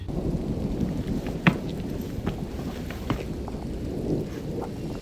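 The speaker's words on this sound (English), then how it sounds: "I stood under the dim veranda light, watching the storm roll across the silhouette of the central range." A thunderstorm with rain in Kaziranga: steady rain patters across the whole stretch while thunder rumbles low and long, with scattered drop hits and a louder crack near the start.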